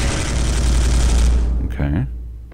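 A storm bolter fires in the Space Hulk video game, a dense, loud rattling burst that runs for over a second and a half, then cuts off, followed by a short game tone.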